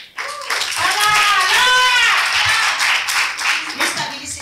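Audience applause at a women's event in Randburg, South Africa, with a burst of clapping under loud voices and shouts that fades into scattered claps.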